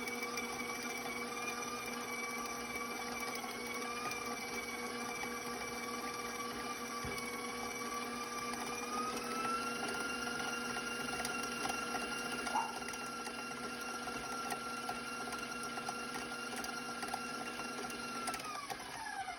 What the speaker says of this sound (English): putting it in your mixer and letting it mix by itself so it loosens and actually becomes creamy